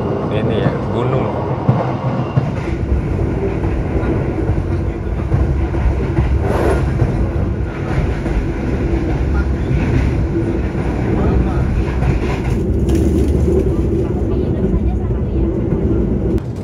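Inside a Menoreh economy-class passenger train in Indonesia, a steady, loud rail rumble and carriage noise roll on without a break.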